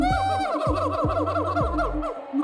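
A monkey gives a loud long-distance call: a quick series of repeated, rising and falling harmonic whoops, close and strong, with no talking over it.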